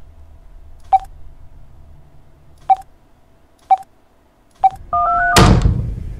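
A telephone number is dialed in the horror video game Insomnis, with four separate sharp keypad tones spaced apart, then a brief double beep and a loud thunk that ends in a sustained noisy burst.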